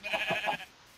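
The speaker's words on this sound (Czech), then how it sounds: "A tady jsou ovce" A single short sheep bleat from the Hexxit video game, a wavering nasal cry lasting under a second, heard clearly and alone at moderate volume.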